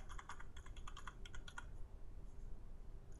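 Fingers tap quickly on a computer keyboard entering a wallet password, a close, faint burst of clicky keystrokes that trails off into quiet room hiss.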